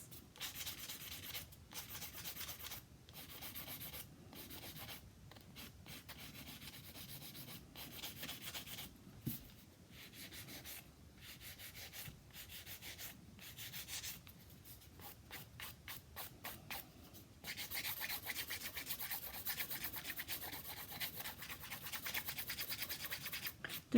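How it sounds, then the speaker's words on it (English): A nail file scrapes across an acrylic stiletto nail in bursts of quick, close rhythmic strokes, soft raspy rubbing with short pauses between sets, growing a little stronger toward the end, with no voices. "I'm always filing up towards that apex"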